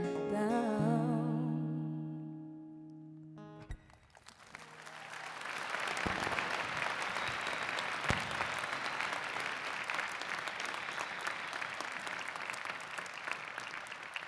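A sung note and accompaniment end as a large audience at a university new student convocation bursts into sustained applause, the clapping swelling and holding steady for several seconds.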